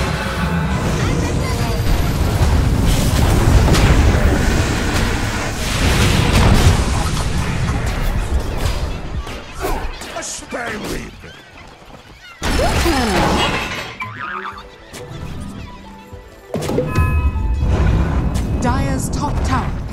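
A Dota 2 tower under attack: dense bursts of crashing hits and booming explosions come in loud waves with short lulls, and voices talk over the fighting.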